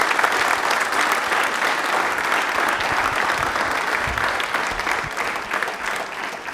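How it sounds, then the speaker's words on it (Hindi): Loud, sustained applause from a studio audience at a televised quiz show, a dense continuous roar of clapping held for several seconds with a faint murmur beneath. "जोरदार तालियां हो जाए अभिषेक के लिए"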